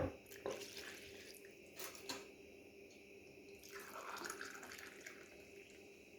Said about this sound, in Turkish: Bir stəkanda isti ilıq su, su tökdüm